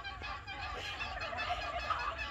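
Domestic turkeys on a small ranch keep up a steady flock chatter of gobbles and calls, fairly close and continuous, with a faint low engine-like rumble underneath.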